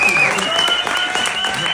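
Brief burst of audience clapping for a film director at a premiere event in France, dense and fairly loud, with a voice talking over it.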